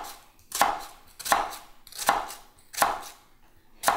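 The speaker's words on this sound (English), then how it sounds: "you're going to cut not all the way through the onion" A knife chopping an onion on a cutting board gives five evenly spaced, crisp thuds about three quarters of a second apart, close and clear, with no talk.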